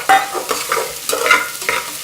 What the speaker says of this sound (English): what I'm going to do is I'm going to add in the shallots, about 1 cup of shallots,